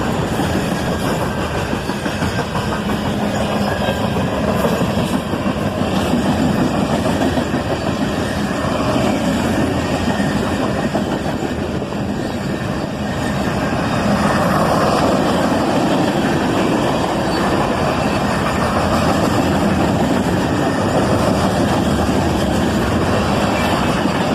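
A CSX daily mixed freight, likely Q509, rolls south with Indiana and Ohio locomotives and a loaded center beam car. It sounds as a loud, continuous rumble of wheels and cars passing close by, with steady clatter throughout.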